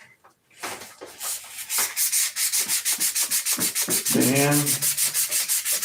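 Sandpaper rubs steadily against a prop mold, a fast even rhythm of gritty strokes that runs close and loud for several seconds, with a short spoken word at the start.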